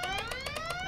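A rapid, pulsing electronic alarm from the video game Goodbye Deponia wails with fast repeating rising tones, fairly faint and steady, with no one talking.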